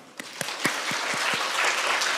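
A children's audience at a church kids' event claps together, several sharp separate claps at first that quickly build into a dense, steady round of applause with no talking.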